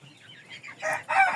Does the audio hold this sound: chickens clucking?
yes